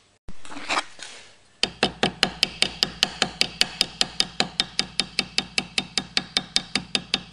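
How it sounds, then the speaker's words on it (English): Annealed brass sheet is hammered against wood in steady, evenly spaced blows, over two dozen dull thuds without metallic ring, following a brief scrape at the start. "I know we're hammering a metal against wood, but the metal's not making that ringing sound as metal usually does"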